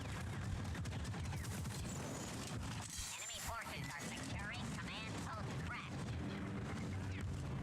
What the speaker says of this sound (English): He ran into the grenade.